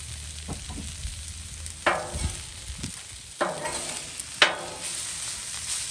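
Ribeye steak sizzles on a hot Blackstone griddle for Philly cheesesteaks under a steady hiss, broken by several sharp scraping clacks of a spatula at irregular intervals.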